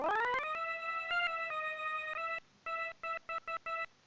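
A series of clear electronic tones from a Myst: Masterpiece Edition puzzle, including E flat and E, a few sustained notes at first, then several short beeps in quick succession, bright and fairly loud.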